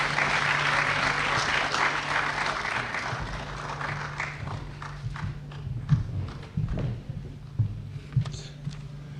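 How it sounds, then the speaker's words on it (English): An audience at a gala event applauds to welcome the featured speaker, the Prime Minister of Saint Vincent and the Grenadines; dense clapping starts strong, then thins into scattered individual claps as it dies down. "Let us welcome with a round of applause the featured speaker of this evening"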